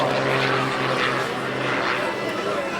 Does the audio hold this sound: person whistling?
no